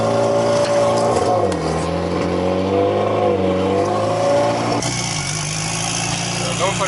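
H2B-swapped Honda Accord AWD on its first drive with a downpipe-only exhaust, a steady loud engine drone holding and shifting pitch as it cruises, with a gear change near the end and talk mixed in.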